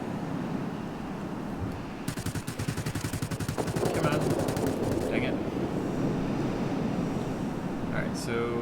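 Rapid machine-gun fire from an IL-40 attack aircraft in World of Warplanes: a dense burst of several seconds over a steady roar of engine and wind that continues after the firing stops.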